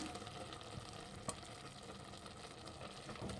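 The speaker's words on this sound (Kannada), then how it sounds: "ಮಸಾಲೆ ಹಾಕಿ ಚೆನ್ನಾಗಿ ಫ್ರೈ ಮಾಡಿದ್ದೀನಿ" Ground masala paste frying in a pan with tomatoes for tomato bath, a soft continuous sizzle and crackle with a brief stir or tap, quiet and close, no talking.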